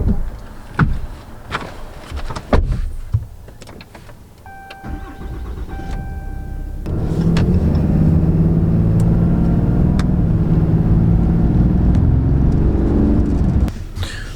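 Ram 2500 Limited diesel pickup starts and settles into a steady, loud diesel drone heard from inside the cab, preceded by door clunks and interior rattles and a few quiet chimes.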